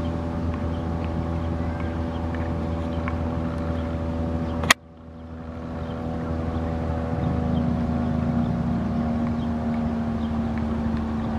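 A steady speedboat engine drones on a calm sea at Pantachou Beach, Ayia Napa, with a constant hum and faint rushing water, broken by a single sharp click, then the engine swells slightly louder.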